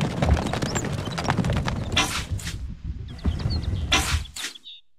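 Horse hooves clip-clopping in the Stronghold Crusader video game, a quick rhythmic run of hoofbeats with short bursts of other game effects in between.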